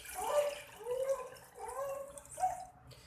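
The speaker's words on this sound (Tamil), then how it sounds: "ஜஸ்ட் நான் கொஞ்சமாக தண்ணி எடுத்து ஊற்றுறேன்." Water poured from a container into an electric kettle of up to 1.5 litres, gurgling in several short bursts at close range with no talk.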